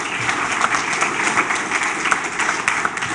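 An audience claps in steady, dense applause that fills the room, sustained without a break and with no talking over it.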